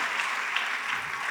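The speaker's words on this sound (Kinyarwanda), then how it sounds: "Ko mudakumye amashyi cyane." A church congregation applauds together in a dense, continuous burst of clapping that holds at an even level throughout, with no talking on top.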